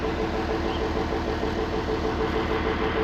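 A steady, continuous old tractor engine idle with a low, rough rumble, constant in level throughout, with no talking.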